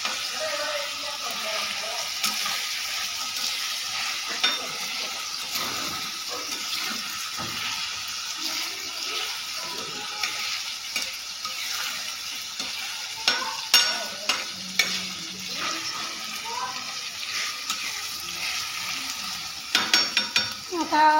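Onion frying in oil in a pan on a griddle is stirred continuously, giving a steady close sizzle broken by scraping strokes of the spoon, with a few sharper knocks near the end.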